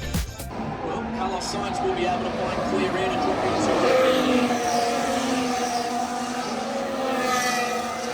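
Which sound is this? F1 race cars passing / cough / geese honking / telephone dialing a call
F1 race cars passing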